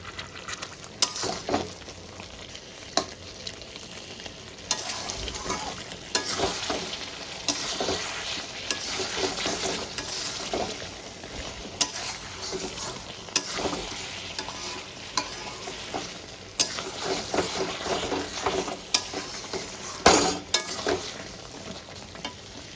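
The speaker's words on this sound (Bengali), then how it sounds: "আমি আবার ঢাকনাটা তুলে নেড়ে দেবো" Butter chicken masala curry is stirred in a pan after the lid comes off: repeated spoon scrapes and knocks over a low, continuous sizzle, at a close and moderate level for over twenty seconds.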